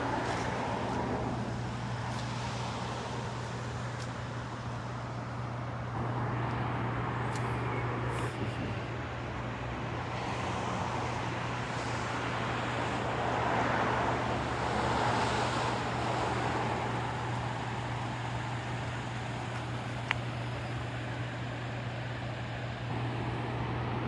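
Steady road traffic rolls across a bridge near Niagara Falls, a constant broad rumble and whoosh of passing cars with a low hum underneath and no single vehicle standing out.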